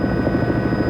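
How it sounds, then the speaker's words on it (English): A rescue helicopter flies through rough weather after a plane crash, its rotor throbbing loud and close in a dense, continuous drone. "until the next day when he heard the rescue helicopters"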